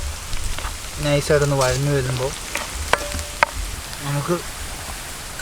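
Ginger and garlic sizzle steadily in a hot pan for a Kerala-style fish pollichathu, a continuous crackling fry heard beneath a voice talking, with a couple of sharp utensil taps.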